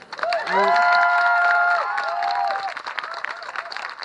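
A large crowd at a pride parade applauds and cheers loudly, with high-pitched whoops and shouts rising above steady clapping.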